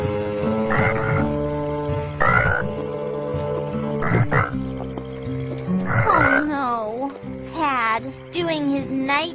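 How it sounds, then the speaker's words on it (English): Cartoon frog croaking at night in Strawberry Shortcake, a run of loud close croaks and warbling ribbits in bursts, some rising and falling in pitch. "his night croaking"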